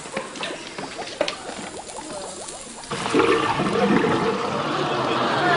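A toilet flushes, starting with light trickling and dripping, then a loud rushing swirl of water that swells around the three-second mark and keeps gushing steadily, close and alone without talk.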